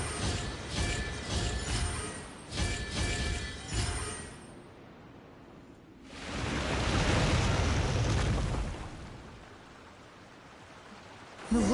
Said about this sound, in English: The water's flowed into the groove